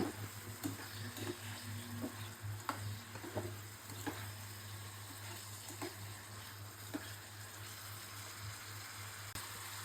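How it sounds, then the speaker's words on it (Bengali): Stinging catfish (shing fish) frying in a pan, a steady close sizzle with occasional stirring scrapes and light clicks throughout, no voices. "মাছটা হালকা কষিয়ে নিলে ভালো হয়"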